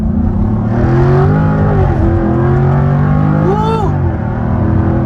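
A 2023 Jaguar F-Type P450 AWD launches hard off the line in dynamic mode, its engine note loud and close, climbing steadily in pitch through the gears with a brief shift near the end and a voice exclaiming over it.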